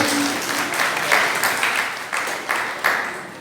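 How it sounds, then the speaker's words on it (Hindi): Applause from a crowd, steady and moderately loud, with clapping bursts swelling at intervals across the whole stretch. "जोरदार तालियों से स्वागत करते हैं।"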